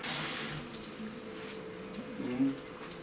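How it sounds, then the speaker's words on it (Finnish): A small splash of water pours into a pot of chili con carne with beans in tomato sauce, a brief close trickle at the start that fades into quiet kitchen sounds. "Tuommoinen pieni tilkka sinne vettä nyt tässä vaiheessa."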